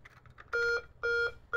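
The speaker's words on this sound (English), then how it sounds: "So now we're going to do a full alarm" A Notifier fire alarm panel in full alarm sounds a loud two-tone electronic beep in short repeating bursts, about a quarter second each with brief gaps, after some faint quieter tones.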